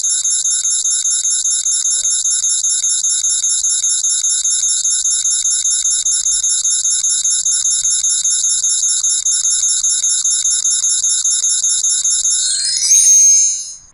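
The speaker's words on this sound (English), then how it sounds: "I'll choose the sound of chime" A chime sound effect from a PowerPoint animation rings as a fast, steady repeating bell-like tone for about thirteen seconds, then ends in a brief swell, loud and clean with no talk.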